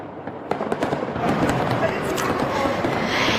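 Fireworks display over the bay in San Francisco, with irregular sharp pops and booms over a dense, continuous crackling roar heard from a distance.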